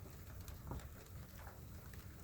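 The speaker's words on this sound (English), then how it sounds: "We are in the car because it's raining outside." Rain patters steadily on a parked car in Custer State Park, South Dakota, heard from inside the car as a faint, even wash of drops with occasional louder taps.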